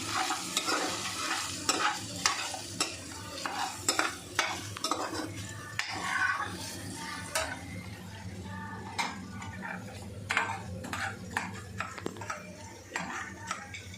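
Okra (bhindi) and spices frying in oil in a pan for a Karnataka-style gojju, with a steady sizzle under repeated close scraping and clinking of a spoon stirring against the pan, continuous throughout with no talking.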